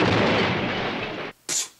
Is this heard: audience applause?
no